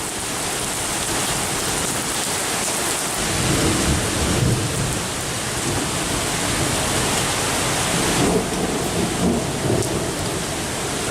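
Heavy night rain in Sardinia pours in a dense, continuous roar, with deep rumbles of thunder rolling through the downpour and swelling in places.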